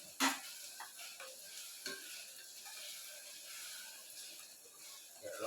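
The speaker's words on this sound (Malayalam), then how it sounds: "അത് ഇളക്കി കൊടുക്കണം ഇല്ല കരിഞ്ഞു പോകും" Food for an egg curry sizzles faintly in a hot pan as it is stirred now and then. Soft scrapes and clinks sound over a low, steady hiss.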